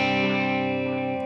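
A single sustained electric guitar chord rings out clean and unprocessed, slowly decaying with no echo or added effects.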